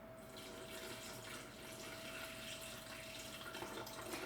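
Water pouring steadily into a fruit nectar mixture in a kitchen, a faint continuous splashing flow with a thin ringing tone, fairly quiet and unbroken.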